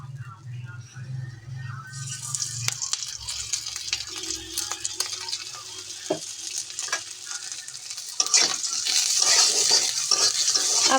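Onions and garlic fry in mustard oil in a pan, with a sudden bright sizzle that swells and scrapes as the mixture is stirred, while a person talks over it.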